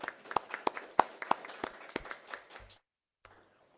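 A small audience at a sportsmen's listening tour meeting in Plainfield gives a short burst of claps, a few distinct hand claps that fade out and leave near silence.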